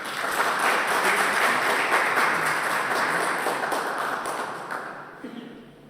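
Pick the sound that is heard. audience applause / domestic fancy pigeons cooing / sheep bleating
audience applause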